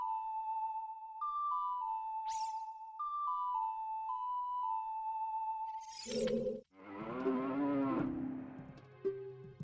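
A cow in Ocarina of Time gives a loud, drawn-out moo after a short looping melody of game music tones, followed by a brief chime.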